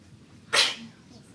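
A single sharp sneeze bursts out once, fairly close, amid an otherwise quiet room.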